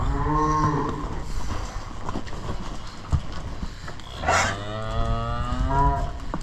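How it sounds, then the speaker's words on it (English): A dairy cow on a farm gives two loud, drawn-out moos, one at the start and a longer one about midway through, close by over steady barn background noise. "That's our cow there."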